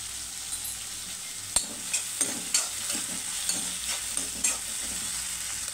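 Tomato pieces frying with onion in a pan for ragi semiya upma, a soft steady sizzle broken by several sharp clinks of a spoon stirring.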